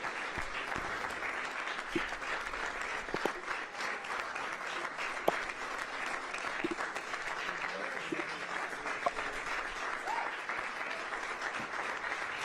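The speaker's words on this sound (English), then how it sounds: "Keep clapping." Steady, continuous clapping from a crowd, even and moderately distant throughout, with a few sharper individual claps standing out near the front.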